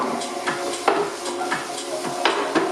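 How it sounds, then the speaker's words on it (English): Diced onion frying in hot olive oil over medium-high heat, a steady close sizzle broken by several sharp scrapes and taps of a utensil stirring the pan. "We've got that over about a medium high heat. We're going to have some diced onion go in."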